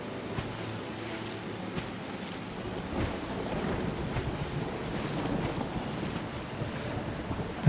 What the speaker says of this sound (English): Storm's coming in again.